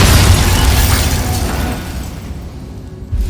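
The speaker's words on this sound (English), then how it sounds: "Bombarder!" A Bombarda spell blast in Hogwarts Legacy lands as a single loud, deep boom right at the start, then rumbles and fades away over about three seconds.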